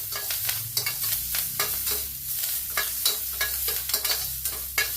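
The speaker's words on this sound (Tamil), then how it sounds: "இதை வந்து நல்லா வதக்கிக்கணும்." Pirandai (veld grape) being sautéed and stirred in a pan for rasam, with steady close sizzling and repeated scraping strokes of a spoon in a regular rhythm, no voices.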